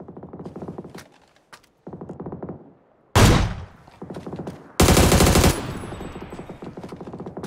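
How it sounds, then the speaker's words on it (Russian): Video game shooter gunfire: short bursts of rapid automatic fire, a couple of them loud and close with sharp cracks, separated by quieter distant volleys. "Синьки по нему стреляют."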